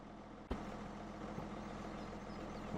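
Tractor engine idling in Farming Simulator 17, a steady low rumble that holds throughout, with a brief clunk near the start and no talk.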